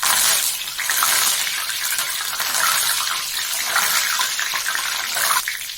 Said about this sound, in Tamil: பச்சை கருவேப்பிலை கழுவிட்டு